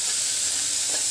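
Green masala of chili, cumin and garlic sautéing in a hot pan, a steady close sizzle with faint stirring and no talk.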